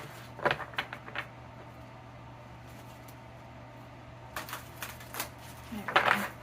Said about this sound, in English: so it's a little bit difficult to shuffle this one